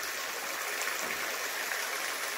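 A forest stream of clear water flows in dense woodland, a steady, moderately loud watery rush and hiss with no pauses and no talking.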